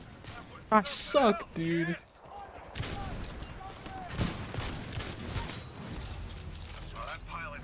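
Gunfire from the Titanfall 2 video game, a couple of sharp loud shots near the start, followed by softer in-game mechanical and battle noise, with someone speaking briefly.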